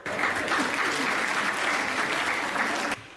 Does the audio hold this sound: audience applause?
yes